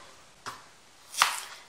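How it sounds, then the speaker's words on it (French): Knife chopping garlic into small pieces on a board for a Thai beef salad dressing, two separate sharp chops, the second louder, close by with no talk. "Je vais couper l'ail en tout petits morceaux."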